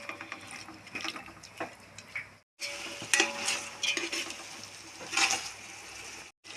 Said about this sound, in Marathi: मसाले हे छानपैकी मिक्स करून घ्यायचे आहे